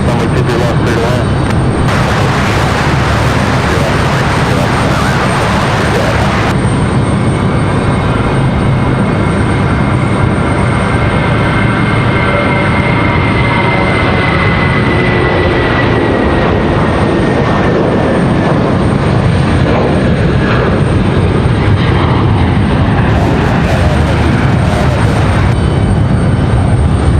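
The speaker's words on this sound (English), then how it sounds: "A321 getting ready for departure." An Airbus A321 airliner prepares for departure at Raleigh-Durham airport, its jet engines a loud, continuous roar with a slowly shifting whine, heard from nearby with voices and radio chatter at times.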